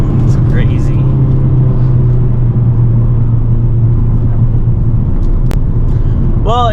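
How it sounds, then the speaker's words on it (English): A 2022 Hyundai Elantra N drives a mountain road on Angeles Crest, its engine a steady low drone inside the cabin, with a brief whine near the end. "there's a little idea of some driving on Angeles Crest"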